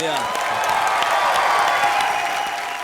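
Studio audience on a live TV comedy show applauding and cheering, a dense steady wash of clapping at close range that holds throughout with no clear gaps.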